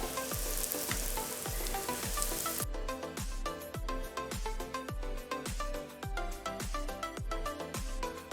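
Puri dough deep-fries in hot oil with a steady bubbling sizzle, while a slotted spoon or ladle taps and scrapes the pan in a regular rhythm, close and soft.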